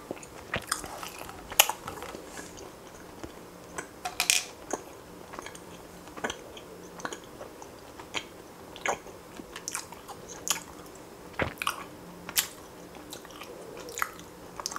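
Chewy rainbow candy being chewed close to the mic, soft sticky bites and squishy mouth sounds repeating steadily in a quiet room with no talking.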